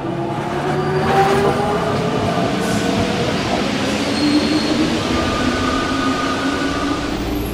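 A train running on the rails, a loud, steady close rumble with tonal wheel squeal and whine throughout, as heard from inside a carriage.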